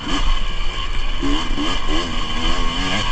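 A dirt bike's engine drones through a worn silencer on a forest singletrack, steady and close with small throttle wobbles and no break in the sound.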